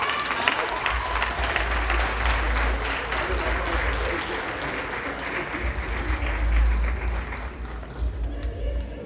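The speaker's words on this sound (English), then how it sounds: "Give him a hand clap." Sustained audience applause fills a Haitian community partners gala in Boston, a dense wash of clapping from a large crowd that holds steady throughout with faint voices mixed in.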